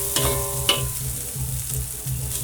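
Rice frying with cooked egg in a pan for Padang-style nasi goreng, a steady close sizzle with rhythmic scraping and stirring strokes.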